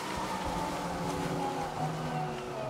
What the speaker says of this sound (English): this is about how loud it is when you're just driving this zero-turn